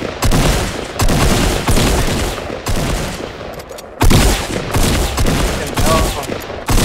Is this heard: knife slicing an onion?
no